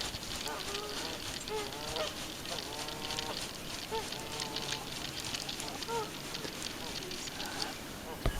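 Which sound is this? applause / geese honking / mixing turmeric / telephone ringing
geese honking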